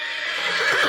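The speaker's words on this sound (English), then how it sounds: "It's the horse." A horse whinnies in a brief, bright neigh lasting about a second, loud and alone with no voices.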